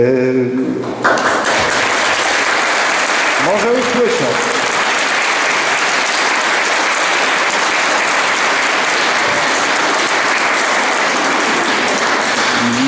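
Loud, sustained audience applause at a school farewell for graduating classes, dense clapping filling the hall for over ten seconds, with a brief voice near the start.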